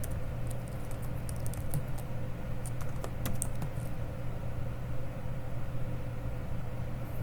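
Typing on a computer keyboard in Microsoft Word while entering a résumé heading in all caps: soft, irregular key clicks sit over a steady low room hum, with no voices.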